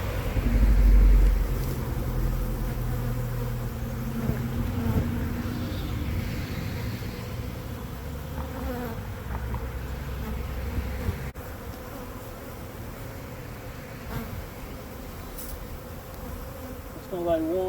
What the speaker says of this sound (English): Man, that's a lot of bees in that box.